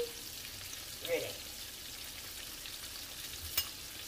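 Turkey thighs deep frying in hot oil, a steady faint sizzle and crackle running throughout, with a couple of brief louder pops and a voice speaking quietly in the background.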